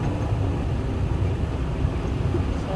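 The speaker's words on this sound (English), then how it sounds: "And it's a petrol engine." A petrol-engined safari vehicle idles and runs on a game drive, giving a steady, close, low rumble that holds level without a break and has no talk over it.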